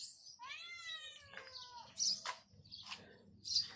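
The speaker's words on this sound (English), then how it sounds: "Can you hear the sound of the birds?" Bright chirping calls with rising and falling harmonic tones, a few sharp high notes repeating over several seconds, fairly close and clear with no talking.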